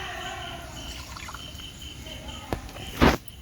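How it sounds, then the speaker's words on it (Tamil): Water poured into a pan with half a kilo of sugar to make syrup for village-style mothichoor laddu; a soft trickle runs under outdoor background, ending in a brief louder splash near the end. "அதுக்கு 1/4 லிட்டர் தண்ணி எடுக்க போகிறோம்"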